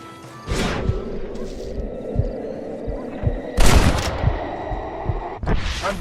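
Gunfire in the Red Dead Redemption video game comes as three loud, sharp blasts spread apart, over a low, throbbing game-score bed, with no talking.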